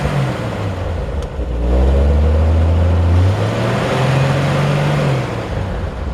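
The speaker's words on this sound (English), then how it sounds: "I actually really like the way that header sounds." A 1973 Jeep CJ5 engine fitted with headers idles and revs while still warming up, a loud steady low rumble swelling into a stronger throaty rise midway and then settling back, close by with no talking.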